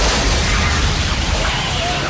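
A missile explosion from the 1998 Godzilla film, a loud, dense roar of blast and rumble that stays at full level across the whole moment.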